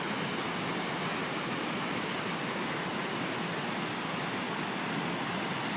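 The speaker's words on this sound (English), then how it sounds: "we stopped right along this little" A small river outside Sierraville flows in a constant, even rush of water, soft and steady, with no voices over it.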